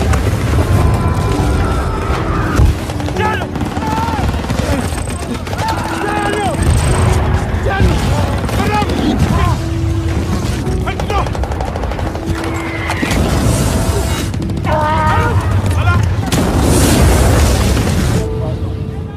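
Battle scene in a war film with dense gunfire, machine-gun bursts and booming bomb blasts, loud and continuous throughout, with shouting voices and music-like tones mixed in.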